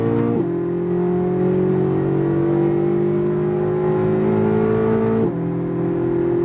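A Corvette Z06 accelerates at full throttle on a race track, its engine a steady, loud, close drone that rises in pitch, with a brief drop near the end as it shifts gear.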